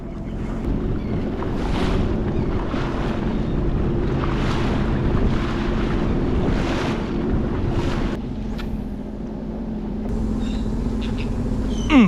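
A fishing jet ski trolls slowly across open water at about five miles per hour, its engine droning steadily up close with water slapping and rushing around the hull, easing off near the end.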